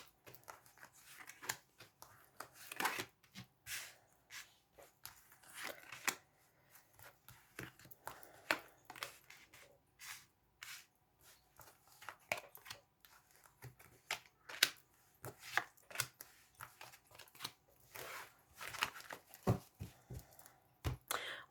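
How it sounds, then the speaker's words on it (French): Tarot cards spread across a table, heard as a long run of faint, close ticks, slides and soft card snaps in an irregular rhythm, quiet throughout with no talking. "Alors, on va aller étaler les cartes."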